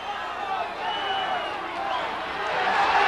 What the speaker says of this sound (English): and the crowd gets very excited.